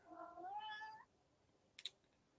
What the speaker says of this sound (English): My cat wants to get outside, which I might let him.